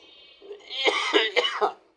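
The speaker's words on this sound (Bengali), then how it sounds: "একটু কাশি দিয়ে ফেললাম" A man teaching a lesson lets out a single close, throaty cough lasting about a second, with a brief rasp at its end.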